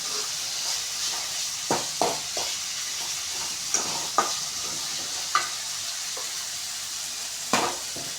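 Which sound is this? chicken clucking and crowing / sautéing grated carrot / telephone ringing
sautéing grated carrot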